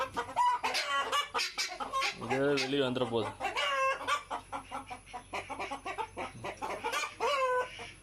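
Guinea fowl in their cage give repeated harsh, rhythmic cries close by, with a person speaking briefly among the calls.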